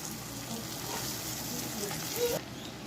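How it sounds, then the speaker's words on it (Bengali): Steady sizzling of onions frying in hot oil left from frying prawns, close up, with a brief squeak near the end. "চিংড়ি মাছ ভাজার সেই তেলেই আমি পেঁয়াজ দিয়ে দিচ্ছি"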